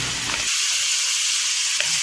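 Tomato and green chilli fry in a pan with a steady, loud hiss that runs throughout, and a short burst of stirring scrapes sounds near the start.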